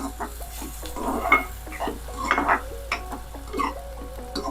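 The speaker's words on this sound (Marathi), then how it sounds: "परत परतून घेऊ" Ivy gourd (tondli) with turmeric and onion being stirred in a pan for a Marathi tondli fry, with scraping and stirring clinks over a soft sizzle, close and moderately loud, no talk.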